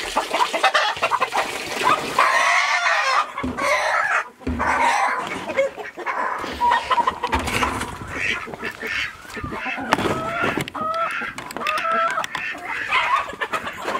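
Chickens cluck and squawk on a small farm, with ducks nearby. Repeated close, uneven calls rise and fall over a busy barnyard background.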